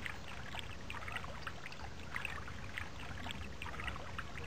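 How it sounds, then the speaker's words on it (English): A babbling fresh water source in the survival game Stranded 2, a steady trickling, bubbling stream that runs continuously and evenly at moderate level, with no talk over it. "Babble, babble, babble, babble. A source of fresh water."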